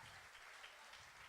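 Brief, quiet applause from a live stage show audience, a dense even patter of clapping with no voices over it.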